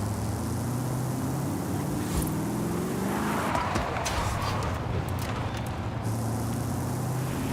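Racing car driven in Forza Horizon 5 with a steering wheel, its engine droning steadily and loud throughout with a brief surge mid-way, while someone talks over it.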